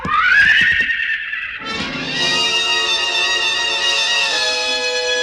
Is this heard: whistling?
no